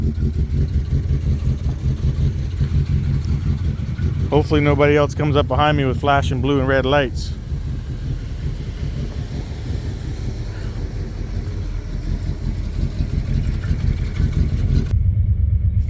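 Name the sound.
1969 Lincoln Continental engine idling and driving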